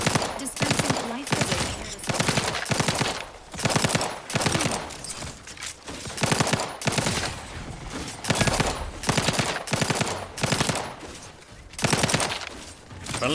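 Bursts of rapid gunfire in The Outer Worlds 2, loud clusters of quick shots repeating in an irregular rhythm, with speech mixed in between the volleys.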